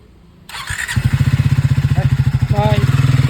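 A motorcycle engine fires up and settles into a loud, rapid chugging idle with rhythmic pulses close by, while people talk over it and a brief squeal cuts through.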